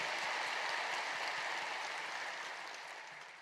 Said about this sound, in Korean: 귀한 찬양으로 은혜를 주신 우리 겟세마네 찬양대에게 뜨거운 감사의 박수 한번 주시겠습니다.